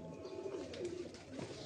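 Pigeons cooing on a Wazirabad rooftop, Bengali breed birds, low rolling coos under faint background noise, soft and fairly near.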